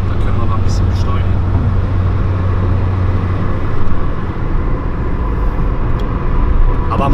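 Inside a VW Lupo on the Autobahn, a loud, steady engine and road drone fills the cabin with a deep low hum, while people talk over it.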